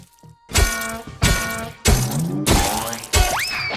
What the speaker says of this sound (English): just repeatedly bonking him on the noodle